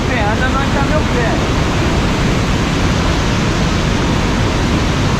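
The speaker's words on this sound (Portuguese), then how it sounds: "Estamos saindo da cachoeira." A waterfall roars in a steady, loud, broadband rush throughout, with a voice briefly audible early on.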